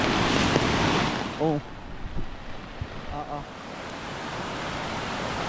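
Strong floodwater current rushing and roaring beneath a bridge on a rainy farm road, a loud continuous wash dominating, with a man's brief exclamation over it.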